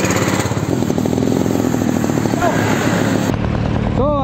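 A modified 70cc TVS XL moped engine runs loudly and close after a kick start, a rapid buzzing putter that holds steady before cutting off near the end.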